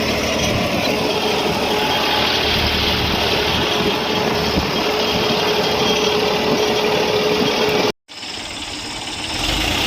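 A diesel tractor engine runs at a steady idle, loud and close, with a constant droning rumble that cuts out abruptly for a moment near the end before resuming slightly quieter.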